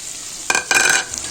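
Chicken fry with masala is stirred in a hot pan, giving two quick scraping, sizzling strokes of the spoon with a faint background hiss between them.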